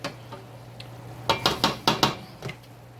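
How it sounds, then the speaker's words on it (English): Onions and squash being stirred in a metal pan on a home stove, a quick run of five or six scraping clinks of a utensil against the pan, close and clear over a steady low hum, with no talking. "So let me stir this up a little bit."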